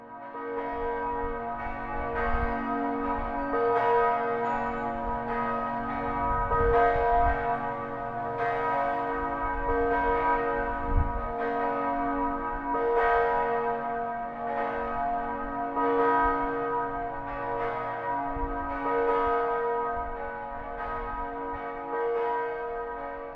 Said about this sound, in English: I leave you with the Saturday noon bells of the Basilica of St.